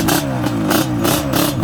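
A quad bike engine revs hard through its gears at mid throttle, with repeated rising surges broken by brief dips at each shift, loud and close.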